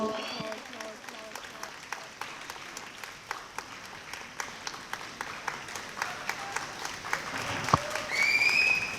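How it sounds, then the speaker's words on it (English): Steady applause from an audience at a prize distribution ceremony fills the whole stretch, with dense continuous clapping and sharper individual claps standing out, swelling slightly near the end. "Please give them a huge round of applause"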